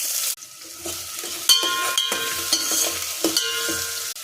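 Onions and garlic frying in oil with fenugreek, mustard seeds and cumin for an anchovy curry, a close, crackling sizzle with brief spatula scrapes and a short break near the start.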